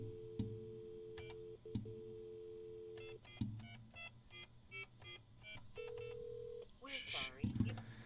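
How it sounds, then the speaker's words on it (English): A desk phone gives out a sequence of dialing tones: a long steady tone, then rapid clusters of short keypad beeps, ending in a warbling signal, all faint, with someone talking over parts of it. "I don't know how to dial out on this stupid ass phone."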